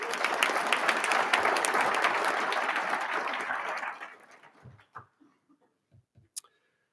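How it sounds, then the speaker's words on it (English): An audience applauds at a Phi Beta Kappa induction ceremony: full clapping for about four seconds, then fading out into a few scattered, separate claps. "Let's give all of them another round of applause."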